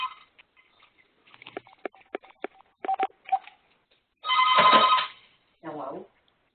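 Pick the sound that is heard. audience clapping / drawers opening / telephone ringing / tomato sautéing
telephone ringing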